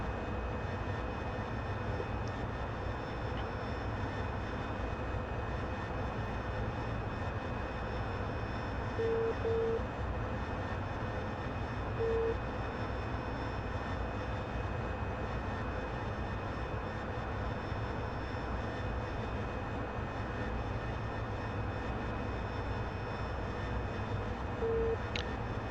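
A steady, unbroken engine roar with a constant whine, as heard from inside an AV-8B Harrier jet climbing out after a short takeoff at about 300 knots, with no voices.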